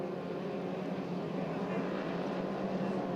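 Formula 2500 racing boat engines roar at full throttle during a race final at St Félicien, a dense, steady drone from a distance, with a commentator talking over it.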